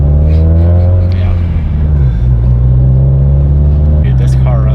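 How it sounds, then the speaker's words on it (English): A turbocharged, heavily built Subaru STI engine making around 1,000 wheel horsepower on 50+ psi of boost idles and revs with a deep, steady rumble, close by, while people talk over it. "Dude, this car runs so good for how built it is."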